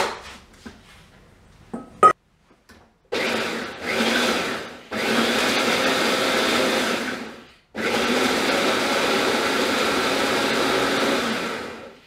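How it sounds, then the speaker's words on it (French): An electric blender whirs through homemade laundry detergent in short pulses, then longer continuous runs of loud, steady motor whine, with a few faint clicks and handling sounds before it starts. "Et du coup je vais le passer au mixeur."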